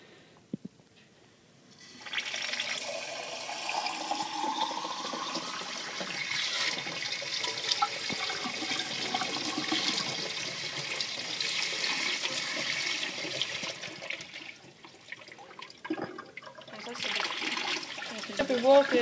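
Cold water running from a tap, a steady close splashing gush that starts after a couple of seconds and continues throughout, with a voice speaking over it.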